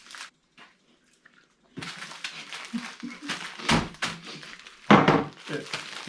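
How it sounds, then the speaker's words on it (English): A hammer crushes biscuits still in their packaging: a few dull thuds with crinkly crunching, the heaviest blows landing near the middle and end, with a person talking between them. "Now normally you'd use something like a rolling pin, so I'm going to use a hammer."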